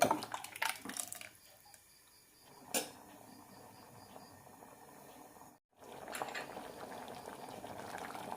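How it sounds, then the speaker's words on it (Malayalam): Steady bubbling of a vegetable kurma curry boiling in a pot on the stove, a continuous low gurgle with a few brief clinks and knocks, no voices. "നന്നായി തിളച്ചിട്ടുണ്ട്"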